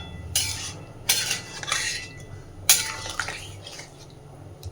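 Potato curry (aloo dum) made with small new potatoes and fat, with chopped coriander, being stirred in a pan; several loud metal scrapes and clatters come in bursts over a low hum, with no talk.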